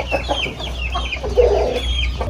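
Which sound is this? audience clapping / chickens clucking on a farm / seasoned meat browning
chickens clucking on a farm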